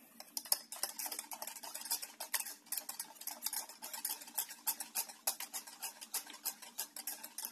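A utensil stirs cake batter made with low-gluten flour in a bowl, giving quiet, rapid, rhythmic scraping and tapping strokes up close.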